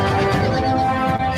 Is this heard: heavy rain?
no